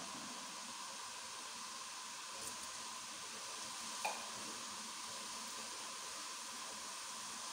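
Semolina roasts in a pan for halwa under a steady, faint dry hiss, with a couple of soft clinks from stirring and no talk.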